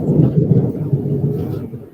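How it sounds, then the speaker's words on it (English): Thunder rumbles low and steady in the background from a storm outside, a continuous deep roll with a few swelling peaks across the whole stretch, no speech over it. "I apologize if y'all can hear the thunder in the background."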